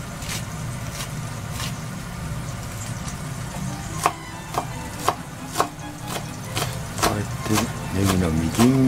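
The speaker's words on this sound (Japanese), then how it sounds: "ネギのみじん切りを作ります" Chef's knife chopping green onions finely on a board for mapo tofu noodles, a few sharp separate chops that then speed up into quicker strokes, heard over a steady background hum.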